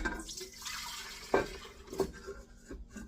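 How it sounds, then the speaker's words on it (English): Frothy, blooming yeast water poured into a stand mixer bowl for homemade hoagie or hot dog buns, a soft splashing pour with a brief louder spill near the middle and faint kitchen clatter, no talking. "So then I take it and pour it into my"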